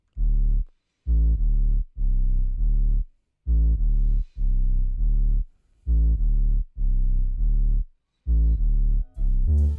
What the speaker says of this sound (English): I mean, even with the simple 808 line like that,